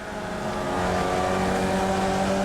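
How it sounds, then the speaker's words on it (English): Race car engines roar together in the Flatout video game as the pack heads into the first turn, a dense, steady, continuous drone with no talk over it. "Listen to the symphony of engines as we go down the inside into turn 1."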